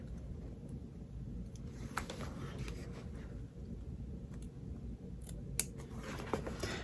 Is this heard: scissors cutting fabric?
yes